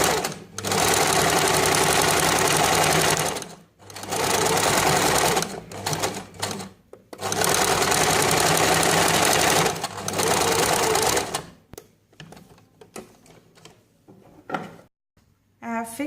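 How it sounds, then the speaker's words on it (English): A sewing machine runs a zigzag stitch along a kaftan in loud, steady runs of several seconds each, separated by brief pauses, ending in short stop-start bursts. "Either you can use a zigzag stitch or a straight stitch. I prefer you to use a zigzag stitch. So let's stitch."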